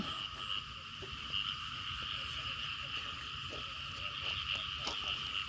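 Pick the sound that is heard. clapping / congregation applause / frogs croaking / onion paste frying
frogs croaking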